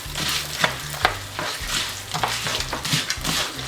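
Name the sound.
stirring eggs into ramen in a pan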